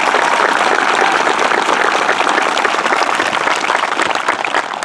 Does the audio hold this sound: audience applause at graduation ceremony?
yes